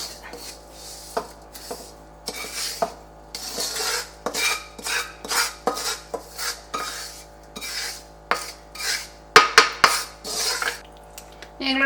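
A spoon repeatedly scrapes and clinks against a metal pot as roasted coconut is stirred into koottu curry, forming a close, rhythmic series of sharp metallic strokes and rasps.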